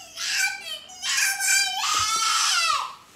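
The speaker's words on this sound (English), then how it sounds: "You hear him screaming?" A child screams and wails in three long high-pitched bursts, loud and close, with a crying quality; no speech.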